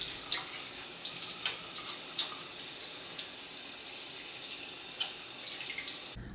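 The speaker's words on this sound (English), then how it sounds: "And then I wash my face using the natural bar of soap and cold water." Cold water running from a tap into a sink while a face is washed with a natural bar of soap, a steady close hiss with small splashes and drips throughout, no voices.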